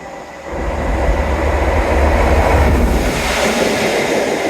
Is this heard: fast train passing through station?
yes